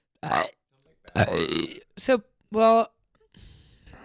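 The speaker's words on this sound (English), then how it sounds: "I have to burp" A loud, drawn-out burp rings out between short bursts of talking and a laugh, close to the listener.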